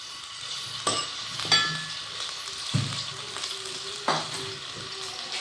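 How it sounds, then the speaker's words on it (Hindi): Oil hitting a hot kadhai on a high flame for an aloo keema dish, a steady close sizzle broken by a few sharp metallic clinks and stirring scrapes. "हम ये ऑयल इसमें डाल रहे हैं।"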